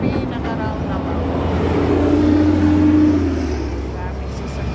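Many vehicles pass through a busy roundabout in Fahaheel, Kuwait, creating a steady wash of engine rumble and tyre noise that swells slightly midway; a voice speaks briefly.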